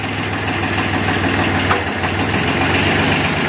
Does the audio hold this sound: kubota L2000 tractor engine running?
yes